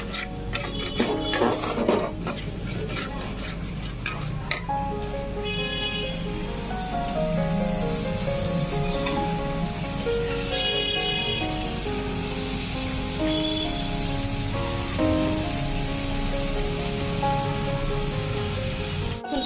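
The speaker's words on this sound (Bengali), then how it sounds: "টমেটো পেস্টটা দিয়ে আমি গ্যাসের ফ্লেমটা কিন্তু মিডিয়াম লো করে দিয়েছি, দিয়ে এটাকে খুব ভালোভাবে কষিয়ে নিচ্ছি" Tomato paste with cardamom frying over a medium-low gas flame for korma, a soft continuous sizzle with repeated scraping and clinking of a spatula in the pan, while tonal music plays underneath.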